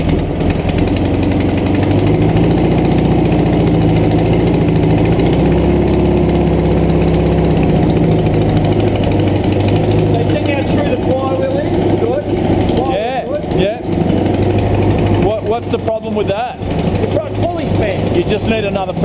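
Air-cooled engine of a VW bus with a cracked cylinder head, idling steadily up close with a loud, even rumble and rough mechanical ticking; people talk over it in the second half.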